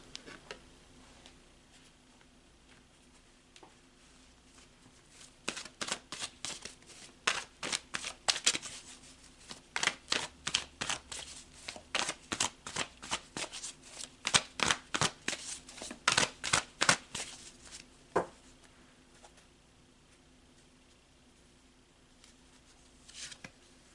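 Oracle cards are shuffled by hand in a quiet room: a long run of rapid, crisp riffling flicks in bursts, building in the middle and thinning out at the end, with no talking.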